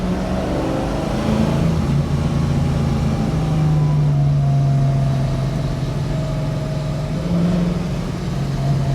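A 1965 Ford Mustang being driven, its engine a steady low drone with a slowly rising and falling pitch, close and continuous throughout, with road and wind noise mixed in and no talking.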